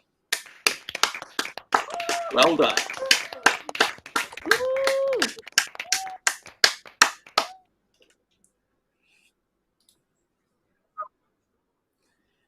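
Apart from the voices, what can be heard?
graduates clapping and cheering over video call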